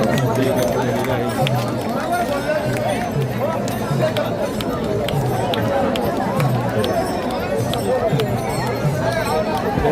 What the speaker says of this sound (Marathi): खूप मोठी गर्दी झालेली आहे.